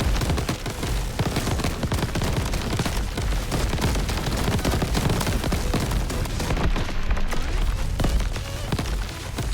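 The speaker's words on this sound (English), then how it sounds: "I can't hear you over all the explosions" Video game combat noise of dense, rapid explosions and crackling blasts, a relentless barrage of sharp booms and bursts that runs without pause, loud and close, with no voices over it.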